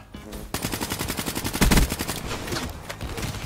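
Rapid automatic gunfire from the video game Black Ops, a dense run of repeated loud shots with a heavier burst partway through, no talk over it.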